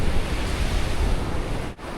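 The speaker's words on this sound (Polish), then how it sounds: "Szum morza." Continuous roar of sea waves washing ashore at Durrës, Albania, broad and steady, with wind buffeting the microphone and a brief dip near the end.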